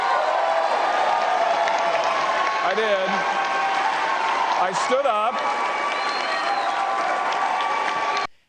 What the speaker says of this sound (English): the crowd gives Josh Hawley a standing ovation